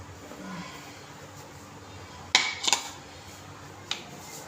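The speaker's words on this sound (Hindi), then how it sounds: "मैंने फ्लेम ऑन कर दिया और ऊपर कुकर बंद करके रख दिया मैंने" Tight-lidded pressure cooker of pumpkin curry being closed and set on a village stove, a few sharp metallic clanks and clinks against a quiet kitchen background.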